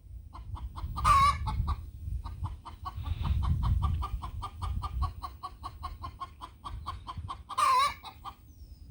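A chicken clucks in a steady, rapid series of short notes, with two louder squawking calls breaking in, close by against low rumbling background noise.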